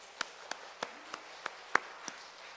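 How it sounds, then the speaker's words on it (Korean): A few members of a church congregation clap sparsely during a Sunday service, about seven separate, faint, well-spaced hand claps in a quiet room. "박수 한번 해주세요."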